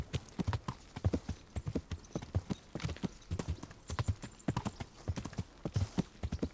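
A horse clip-clops at a steady gait in the medieval game Kingdom Come: Deliverance, its hooves beating in a quick, regular pattern at moderate volume with no talk over them.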